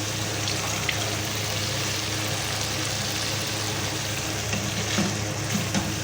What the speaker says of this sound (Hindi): इसी पानी में इसको भून लेंगे ताकि अच्छी तरह ये भून जाए हल्की आंच पे